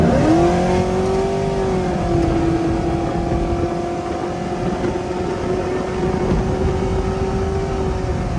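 A cammed GMC Sierra pickup with an automatic transmission and 3400 stall converter accelerating, its engine drone rising in pitch then holding steady under load, loud and close from inside the cab.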